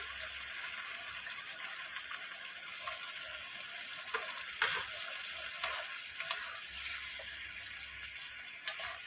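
Chili soya sizzles softly in a pan after water is added, a steady quiet frying hiss with a few faint clinks of stirring.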